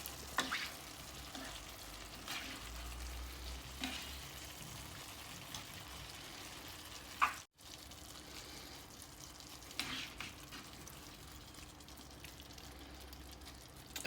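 A meat dish with thyme being stirred in a frying pan: a faint, steady sizzle runs throughout, with occasional soft scrapes and clinks from the stirring and no talking.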